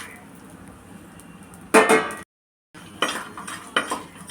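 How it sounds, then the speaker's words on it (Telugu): Whole spices go into hot ghee in a clay pot for mutton dum biryani, heard as a short burst of clattering and scraping, then a brief silence and further metallic stirring clinks, close and moderately loud. "నెయ్యి మనకు కాగింది కదా, చూసారా, మసాలా దినుసులు మొత్తం ఒకేసారి వేసేస్తున్నాను."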